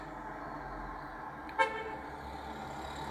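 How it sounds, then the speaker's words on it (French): A single short car horn toot sounds midway through, fairly distant, over a low steady background hum. "Pourquoi tu klaxonnes, toi, mon gars?"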